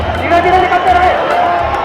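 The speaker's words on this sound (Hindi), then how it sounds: "चारों तरफ हर तरफ भक्तों की भयंकर भीड़ लगी हुई है" A huge crowd of devotees jams the entry gate of the Barsana temple during Laddu Mar Holi, a dense, steady roar of overlapping voices and cheering that fills the space without pause.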